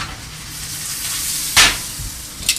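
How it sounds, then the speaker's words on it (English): Tomato added to a hot pan while cooking pasta with shrimp gives a steady sizzle, with one sharp hiss flaring up midway and a smaller crackle near the end. "Now we put in the tomato."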